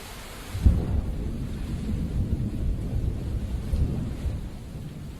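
Heavy monsoon rain pours steadily during a storm that brought down trees and flooded streets, opening with a sharp nearby thunderclap followed by a long low rumble under the constant hiss of rainfall.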